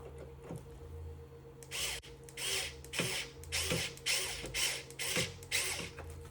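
Battery powered screwdriver driving small screws into an inkjet printer during a print head swap, with several short whirring bursts in steady succession, each stopping with a brief ratcheting clutch catch, close and fairly loud.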